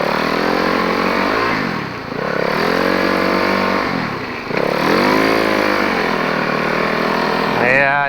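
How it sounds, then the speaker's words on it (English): A snow bike engine revs up and down in repeated surges while its worn clutch friction discs are tested. The motor is loud and close, rising and falling about three times. "Yeah, I'm revving a little too much."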